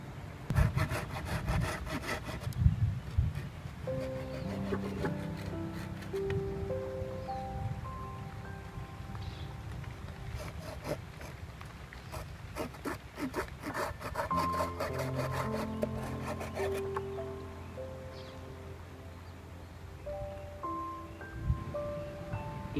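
A saw cuts through cinnamon wood being shaped into a flute, making a close, steady back-and-forth rasping with a few brief pauses.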